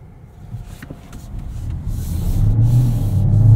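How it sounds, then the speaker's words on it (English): A BMW B58 engine in a 2024 BMW 750e xDrive builds in pitch and loudness as it accelerates, a low, muted drone growing steadily louder toward the end. "The B58 doesn't sound particularly good. It's muted."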